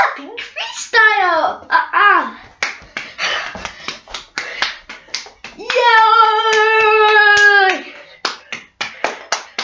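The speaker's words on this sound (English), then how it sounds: "And then he had a clapping freestyle." A child clapping freestyle, sharp claps and snaps in irregular bursts mixed with a child's sung and spoken vocalizations, including a long held tone in the middle.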